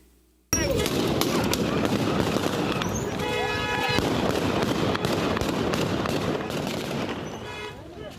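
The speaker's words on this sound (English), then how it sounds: "Taliban soldiers who fired their rifles into the air" Rapid rifle gunfire crackles in dense bursts after a sudden start as Taliban soldiers fire into the air to break up an Afghan women's protest, loud and sustained, with shouting voices mixed into the din.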